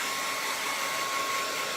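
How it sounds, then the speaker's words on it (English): A hand-held dryer blows steadily on a freshly bathed, groomed Bichon, producing a loud, continuous broadband whoosh with no break and no voices. "use a hand dryer"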